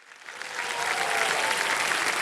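Studio audience applause on the Indian quiz game show KBC, season 17, rising quickly from a soft start into a dense, loud, even wash of clapping that holds to the end with no talking.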